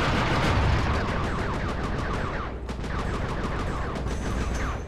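Dense, continuous gunfire and explosions from the video game Sly 3: Honor Among Thieves, a loud, unbroken clatter of rapid shots layered over rumbling blasts.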